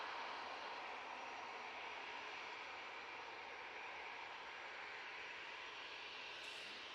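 Jet2 Airbus A321ceo engines at Manchester Airport before departure, a faint, distant, steady broadband roar and hiss holding level throughout, with no voices.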